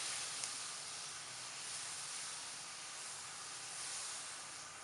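Dried apricot chutney cooking in a pan over a medium flame gives a steady, faint, even hiss and sizzle throughout, with no voices over it.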